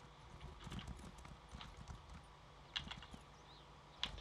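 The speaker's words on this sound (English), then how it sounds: "I should get my horse." Horse hooves clip-clopping in a video game, a soft irregular walking rhythm at low level with a couple of brighter interface-like clicks.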